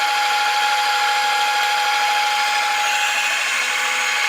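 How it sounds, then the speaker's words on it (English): A speed multiplier drive with a 6.2 to 1 ratio spinning at 4,000 RPM, a loud, steady high whine with a constant tonal hum that holds unchanged throughout, with no voices. "It's a little noisy because of the drive. It's a multiplier."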